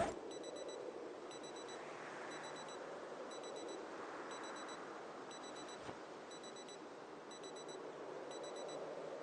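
An in-game alarm in Project Zomboid repeats a regular electronic beeping pattern in short bursts over a steady background hum, faint and distant, with no talking.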